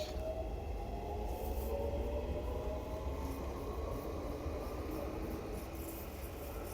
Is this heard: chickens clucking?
no